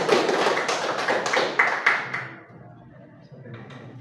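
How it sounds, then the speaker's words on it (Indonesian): Applause from a small audience at a school podcast session, a dense patter of clapping for about two seconds that thins and fades into quiet room noise. "untuk tepuk tangan kita semua dulu ya"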